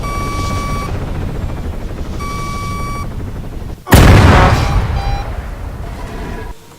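Gunfire from aircraft weapons such as a minigun in the Arma 3 video game, with a steady mechanical drone and tonal beeps before a sudden loud blast of dense, continuous rapid fire that holds for several seconds.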